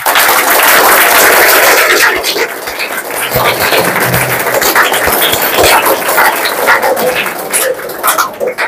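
An audience claps at a school to welcome visiting guests, a dense, loud burst of many hands that fades into scattered clapping mixed with crowd noise.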